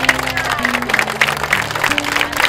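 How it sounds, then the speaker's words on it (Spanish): Loud applause from a studio audience welcoming a guest on a television show, continuous close clapping with music playing underneath. "Yo quiero que cuando venga Delmis, todos me lo reciban con un fuerte aplauso."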